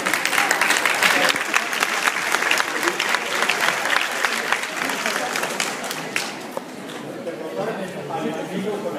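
An audience at a lecture on education reform in Xalapa breaks into loud, sustained applause mixed with crowd chatter, and the clapping eases slightly toward the end.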